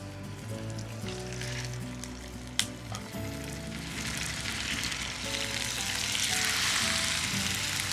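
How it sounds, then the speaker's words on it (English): Loud, continuous sizzling of halibut frying in hot oil, crackling steadily and swelling brighter toward the end, with one sharp knock partway through. "so let's get this fish frying."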